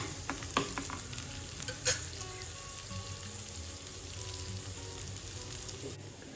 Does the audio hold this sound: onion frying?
yes